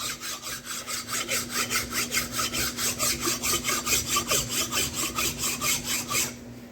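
Rapid, even back-and-forth rasping of a file on a metal brake caliper from a 2003 Dodge RAM 3500, roughly four strokes a second, close up over a faint hum, stopping abruptly.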